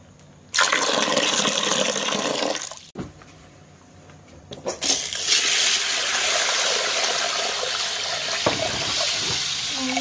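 Water poured from a vessel over grains to soak them for Gujarati tam tam farsan, a steady loud gushing pour with a brief pause, then a second long pour.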